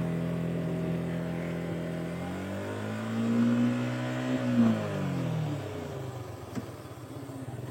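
Suzuki Gixxer motorcycle with its original exhaust revving in fourth gear, a steady mid-pitched drone that swells in pitch and loudness toward the middle, then settles back to a lower hum, close and without talk.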